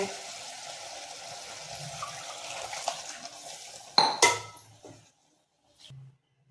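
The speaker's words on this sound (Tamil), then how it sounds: "இந்த மிக்சி ஜாரை கழுவி இந்த தண்ணியை ஊற்றி விட்டா" Water runs and sloshes in a blender jar being rinsed, then a couple of sharp clinks of the jar or a utensil, followed by brief quiet and a short splash as the water is poured out.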